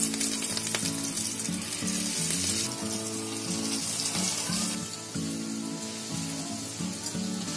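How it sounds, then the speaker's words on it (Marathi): Potato snack pieces sizzle steadily in hot oil, a dense, continuous frying hiss that stays close and even throughout, with music playing underneath and no speech. "आता तेलामध्ये असे हळूहळू सोडायचे."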